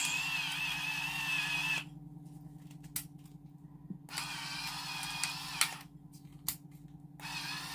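An electric pepper grinder set to coarse runs in several motorized whirring bursts, the first the longest, over a constant low hum, with short gaps and faint clicks between bursts.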